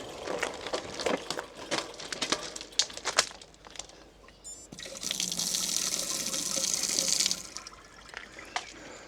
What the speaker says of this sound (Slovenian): Tukaj je še en dober vodni vir.